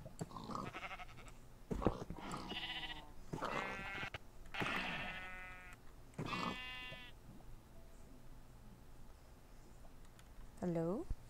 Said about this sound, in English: I'm being attacked by sheep.